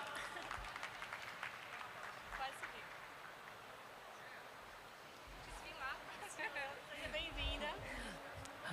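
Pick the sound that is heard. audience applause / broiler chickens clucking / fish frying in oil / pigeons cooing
audience applause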